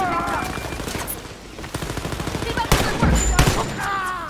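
Rapid bursts of automatic gunfire from the Wolfenstein: Youngblood shooter game, sharp cracks stacking into near continuous volleys over game music, with a voice talking over the shooting.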